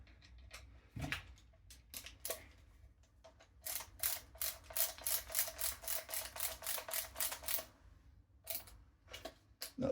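On a Double Eagle M924 airsoft gun, a screw is tightened with a quick series of small, crisp ticking clicks, close and faint, bunched into a steady run of evenly spaced clicks in the middle.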